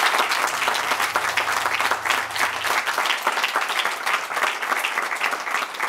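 Studio audience applause on a Hungarian evening talk show, a thick, continuous roar of clapping from many people that holds at an even, loud level throughout.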